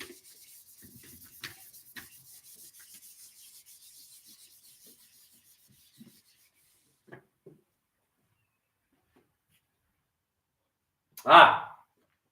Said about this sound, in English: I'm going to rub these off